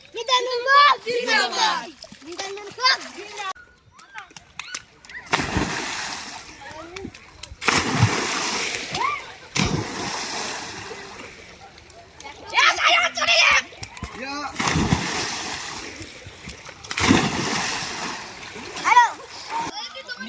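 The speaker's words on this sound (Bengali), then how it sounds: "এখন আমরা ডুব দেওয়া কম্পিটিশন খেলা করে খেলবো" Children dive and splash in a river. Bursts of splashing water recur every couple of seconds, close and loud, between and under the children's excited talk and shouts.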